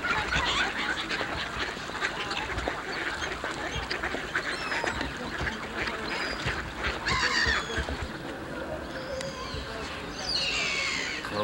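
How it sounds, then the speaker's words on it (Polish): Water birds calling on the water beside Łazienki Palace, ducks and geese quacking and honking among steady outdoor noise, with a person talking over them. "Ale uciechę mają ptaki."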